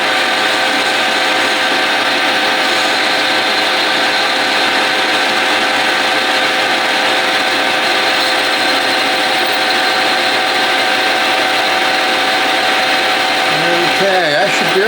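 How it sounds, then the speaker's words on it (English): A milling machine cuts a metal tool part with a steady, loud, continuous high whine and grinding drone that holds evenly throughout, with no speech heard. "It's ready for the milling machine."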